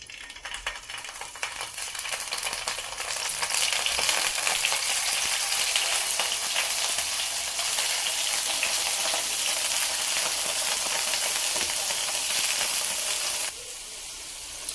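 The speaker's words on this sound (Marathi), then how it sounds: "इकडे आपला मसाला परतत आहे, तोपर्यंत आपण काय करूया, पनीर थोडंसं फ्राय करून घेऊया दुसऱ्या बाजूला" Masala sautéing in one pan while paneer fries in another in a home kitchen, giving a steady, loud broadband sizzle with faint stirring rattles throughout, dropping slightly softer near the end; no talking.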